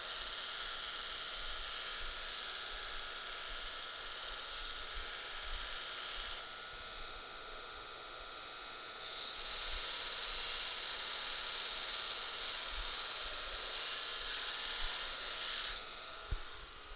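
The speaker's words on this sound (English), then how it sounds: "There's some steam." Steady loud hiss of steam rising off hot metal being cooled during grinding, a continuous broadband rush with faint low thumps and small shifts in tone throughout.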